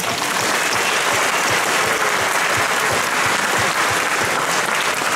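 Steady, dense applause from a shopping-centre audience in Lempäälä, clapping for the shop workers, loud and continuous throughout.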